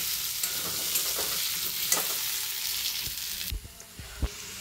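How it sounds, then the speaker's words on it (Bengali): Cubed elephant foot yam fries in a hot pan with browned onions, a dense continuous sizzle with stirring scrapes, ending in a few low thuds as the crackle thins out. "একটু লাল করে ভেজে নেব ওলটাকে।"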